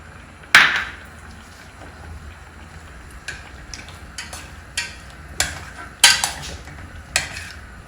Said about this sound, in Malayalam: ഇനി ഇതിലേക്ക് നമുക്ക് ഈ സമയത്ത് ചെമ്മീൻ ഇട്ട് കൊടുക്കാം